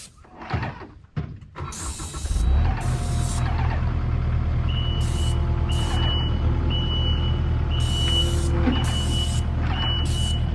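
A truck idles and rumbles close by, with intermittent high electronic backup beeps repeating in spaced bursts and brief hisses, outdoors at a garden fence site.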